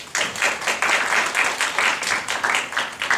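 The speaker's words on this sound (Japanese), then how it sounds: "拍手お願いします。" Applause from the audience at a community health class after a presentation, rhythmic, fairly loud clapping with visible individual claps in a steady pulse, continuing without talk.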